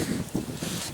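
Wind buffets an outdoor microphone at a trail cooking spot, a steady low rumbling gust with no other sound over it.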